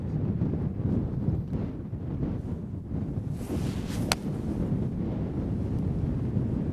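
Strong wind buffeting the microphone on an open golf course, a continuous low rumbling roar with gusty swells throughout and a brief sharp click midway.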